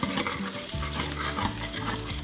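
Carrots frying in hot oil while being stirred during a home cooking demonstration of rice with vegetables; a steady, close sizzle runs throughout with recurring scraping stir strokes.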